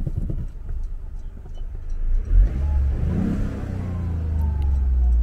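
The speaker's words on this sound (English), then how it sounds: "Pretty deep rumble, 4000 RPM, sounds absolutely beautiful." A 2020 Toyota Yaris in track mode revving up to 4000 RPM, its engine climbing to a deep rumble with a rising whine, then holding a steady low drone, close and loud with no talking.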